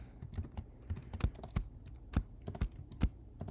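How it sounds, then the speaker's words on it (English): Quick, uneven clatter of computer keys being typed nearby, sharp individual clicks scattered over a few seconds with no voices. "Typing is hard today."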